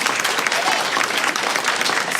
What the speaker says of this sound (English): let's give another round of applause for Principal Mahl